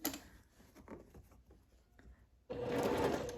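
A sewing machine stitches along a seam line on a striped seersucker dress, starting with a few slow, halting stitches and then breaking into a loud, fast, steady run close by.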